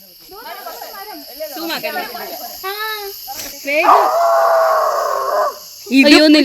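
A man imitates a jackal howl outdoors at Ponmudi, his voice rising and wavering in drawn-out cries, with a sustained loud howl near the end and other voices talking around it.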